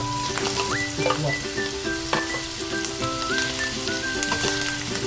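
Tofu fries in a pan for tokwat baboy, giving a steady close sizzle with crackling pops under tonal background music.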